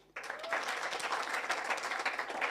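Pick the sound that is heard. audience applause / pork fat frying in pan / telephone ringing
audience applause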